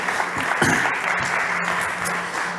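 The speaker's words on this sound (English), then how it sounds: "Big applause for Joao" An audience at a startup competition stage breaks into applause, a dense, steady clatter of many hands clapping that lasts the whole short stretch.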